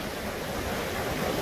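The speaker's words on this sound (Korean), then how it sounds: "파도가 밀려오니까 어지럽다, 야" Ocean surf washing ashore at Jjangttungeo Beach on Jeungdo island in Sinan, Korea: a steady, loud, continuous wash of breaking waves with some wind rush, and no voices.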